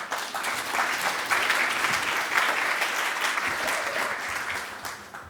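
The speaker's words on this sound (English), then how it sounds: "Please give a round of applause for Bernie Malinoff" Applause from a conference audience greeting a speaker at a business event, a dense, steady wash of clapping held at full strength for several seconds before easing slightly at the end.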